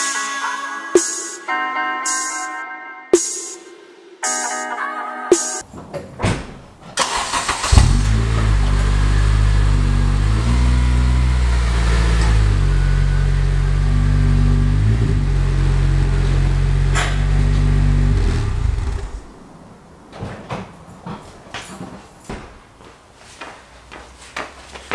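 A car engine in a tandem garage starts after some clicks and clunks, then idles and runs with a steady low drone for about twelve seconds while the car is moved up, before cutting off and leaving scattered small noises.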